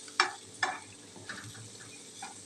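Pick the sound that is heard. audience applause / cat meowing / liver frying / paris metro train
liver frying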